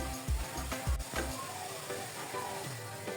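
Grated carrot and semolina mixture frying in ghee in a pan, a soft low sizzle with a few faint stirring scrapes and light clinks near the start.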